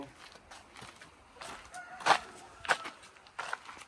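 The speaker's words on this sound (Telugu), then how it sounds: "పందానికి సంబంధించిన కోళ్ళు పెంచుతున్నారు" Several short clucking calls from fighting cocks on a farm, a few seconds apart, moderately close over a quiet outdoor background.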